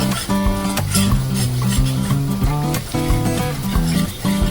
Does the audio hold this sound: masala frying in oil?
yes